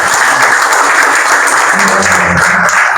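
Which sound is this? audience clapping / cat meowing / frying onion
audience clapping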